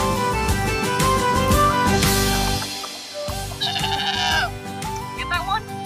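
A goat bleats several times amid busy, bouncy music, with voices and other sounds layered throughout.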